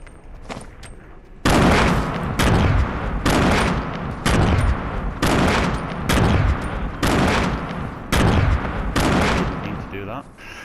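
Repeated grenade explosions and gunfire in a Fortnite battle: after a few faint shots, a run of about eight loud booming blasts lands at steady intervals close by, each with a sharp crack and rumbling tail.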